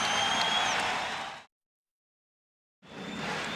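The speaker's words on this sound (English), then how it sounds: "The crowd responding to the good start by the LA Lakers" Arena crowd at a 1991 NBA Finals game in Los Angeles cheering the Lakers' good start against the Bulls, a broad roar that cuts to total silence midway before returning just as loud.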